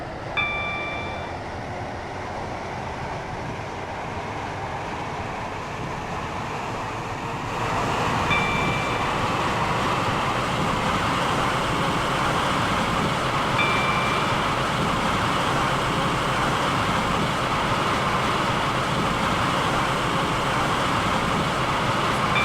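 A train running in the Roblox game Stepford County Railway on a Stepford Connect service, a steady rumbling drone with a few chime tones, growing louder partway through and continuing evenly.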